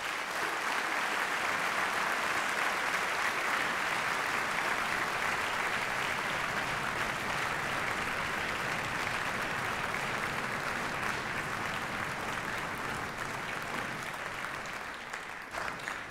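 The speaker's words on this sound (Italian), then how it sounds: "di formulare a loro un grande applauso, un grande grazie" Sustained audience applause fills La Fenice theatre, a dense, steady roar of many hands clapping at even loudness throughout, easing only slightly near the end with no voices over it.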